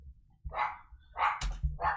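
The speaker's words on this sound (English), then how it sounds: "My dog is barking, by the way." A dog barks three times in quick succession at close range, each bark short and sharp, with no other sound between the barks.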